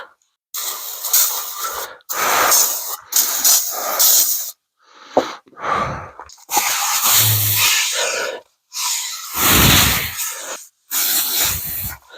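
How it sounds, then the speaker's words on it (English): Brake cleaner sprays onto a rusty wheel bearing part in a series of loud, close hissing bursts, several seconds each, broken by short pauses. "So let's hit that with some brake cleaner to get Creo oil off of it."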